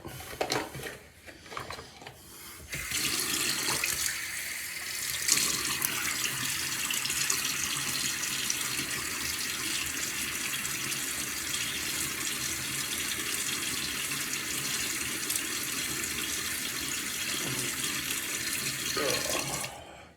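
A bathroom sink tap runs steadily as water is used to wet a face before shaving, a continuous close splashing rush that starts after a few seconds of small handling noises and stops abruptly near the end.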